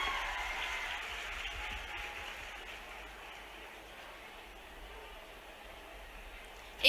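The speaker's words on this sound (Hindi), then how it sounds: "तालियों से स्वागत किया जाए मामा जी का।" Crowd applause welcoming the chief minister at a state Ladli Laxmi festival event: a steady, fairly faint patter of many clapping hands heard from a distance, tapering slightly before a sudden noise at the very end.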